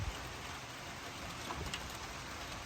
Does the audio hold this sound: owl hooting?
no